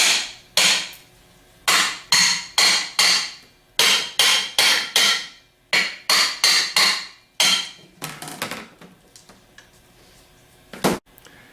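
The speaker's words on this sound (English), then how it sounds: "Take a ball peen hammer and tap 180-degree intervals." Ball peen hammer taps apart the two halves of a Valeo alternator being rebuilt, sharp metallic knocks in quick groups of three or four with short pauses, close and crisp, ending in a few scattered lighter taps.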